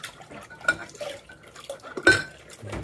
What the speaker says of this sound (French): Ça fait quand même beaucoup de vaisselle à faire.